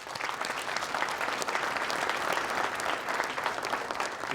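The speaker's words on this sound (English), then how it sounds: "Please join me in a second round of applause" Steady audience applause at a student awards ceremony, many hands clapping in a dense, even wash that holds for several seconds with no talk over it.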